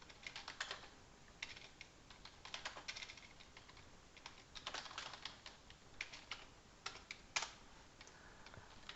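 Fingers type steadily on a computer keyboard, with quick irregular bursts of light clicks and brief pauses, heard close and quiet with no voices.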